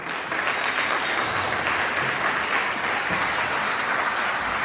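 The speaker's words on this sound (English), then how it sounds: "let's give it a round of applause for these amazing students" Steady audience applause at a high school honor society ceremony for students, a dense, even wash of many hands clapping at once, sustained and unbroken from start to finish.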